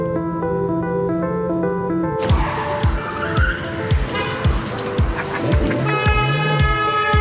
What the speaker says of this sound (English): Handbrake turns on the Paseo in Marbella